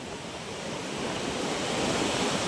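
Soft, continuous wash of waves breaking on a deep-water shoreline at Bucana, swelling slightly, heard from a short distance with a hint of wind.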